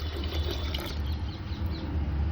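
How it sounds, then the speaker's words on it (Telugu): Water pours steadily into a pressure cooker over sweet corn, a brief continuous splashing gush at close range with no talking. "అలాగే కార్న్స్ మునిగే అన్ని వాటర్ వేసుకుందాం"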